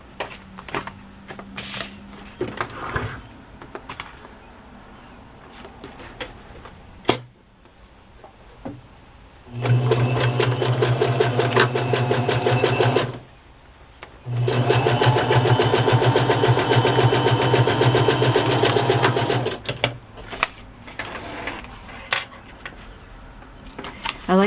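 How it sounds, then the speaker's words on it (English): A sewing machine zigzag-stitching fabric for a craft journal page runs in two long, steady whirring bursts with a short pause between, quiet handling noises before and after. "So I will stitch that down with a zigzag stitch."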